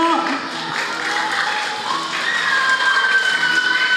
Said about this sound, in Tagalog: Mga bata, pumalakpak po.